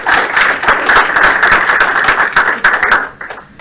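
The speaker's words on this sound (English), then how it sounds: "We'd also like to give a round of applause to our fearless leader," Loud, close crowd applause at a game studio build review, with dense clapping from many people sustained for several seconds before thinning out near the end.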